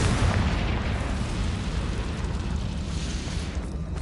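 A Confringo spell blast in Hogwarts Legacy, heard as a heavy, sustained explosive roar and rumble with no talking.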